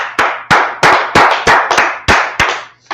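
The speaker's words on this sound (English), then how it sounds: "Let's clap it up for the Lord." A church congregation claps in a sharp, loud, somewhat uneven rhythm, about nine distinct claps of many hands over a few seconds with a faint steady hum underneath.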